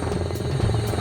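Stealth attack helicopter rotor with swept wingtips, heard as a steady, loud low buzzing drone with faint rhythmic pulsing, continuous through a brief moment with no talk.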